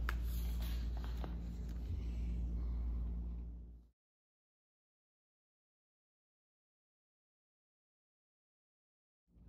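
Pencil scratching and rubbing on paper as a child draws, a close, continuous scratchy sound with a few sharper strokes that lasts about four seconds and then cuts to silence.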